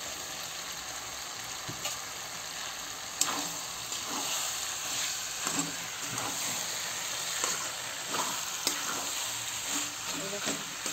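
Shredded cabbage frying with tomato and chana dal while being stirred, a steady close sizzle with occasional spoon scrapes and clinks throughout.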